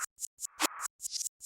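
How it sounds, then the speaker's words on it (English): Reversed clap and hi-hat sounds used as a transition effect in a Metro Boomin-style hip-hop beat, a quick series of short swelling bursts that cut off abruptly, one longer rising sweep in the middle, heard alone. "This is just a clap and the hi-hats reversed."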